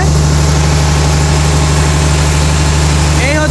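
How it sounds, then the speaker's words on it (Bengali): An 880-horsepower Weichai diesel engine runs in the engine room of the Karnaphuli-9 passenger launch, a loud, steady, close drone with a strong low hum and constant vibration. "এই হচ্ছে কর্ণফুলী নয় লঞ্চের ইঞ্জিন রুম।"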